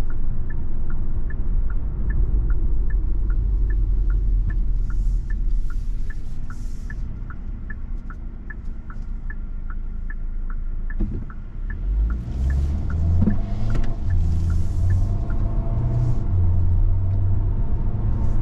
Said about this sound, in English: Picks up nicely, gets the car up to speed